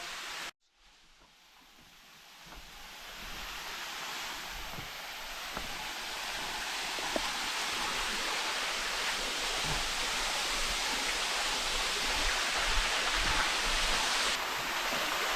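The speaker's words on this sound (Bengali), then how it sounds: "আমরা ধারাগিরি ওয়াটারফলসের একদম সামনে এসে পৌঁছেছি" Dharagiri waterfall in Jharkhand, a steady broadband roar of rushing water that builds after a brief gap and holds loud and continuous, with no voices.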